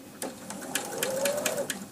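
A sewing machine takes a few stitches joining quilt block pieces, short irregular clicking needle strokes with a faint whirring hum underneath, close and brief without speech.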